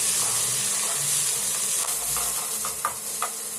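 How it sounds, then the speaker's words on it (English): Chopped onions sizzle in hot oil with curry leaves, giving a loud, dense, steady hiss punctuated by a few sharp pops and spoon taps toward the end. "I'm adding chopped onions."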